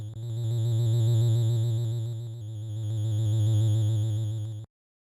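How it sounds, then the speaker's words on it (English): Alarm sound effect from the video game Deltarune: a loud, steady, buzzing electronic tone that swells twice over several seconds, then cuts off abruptly into silence. "it's a digital version of the finale alarms that plays,"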